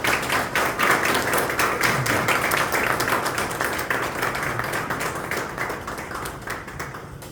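Audience applause at a Korean church press conference in a chapel, a sustained burst of many hands clapping, loud at first and slowly fading over several seconds, alone without talk.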